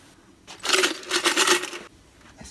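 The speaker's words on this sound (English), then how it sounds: "Got a lot of keys here." A large bunch of keys on a ring jingles in a high school building: a bright metallic shaking lasts just over a second, then cuts off and leaves quiet.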